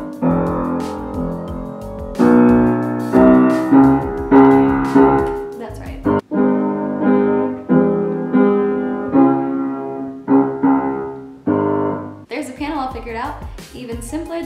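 Old, out-of-tune piano cycling through the same three chords over and over, sustained and fairly loud, with each chord ringing into the next and a brief break near the middle.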